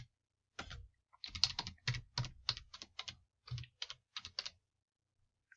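Keystrokes on a computer keyboard, typed in quick bursts of separate clicks with short pauses between words, close and fairly quiet, with no voices.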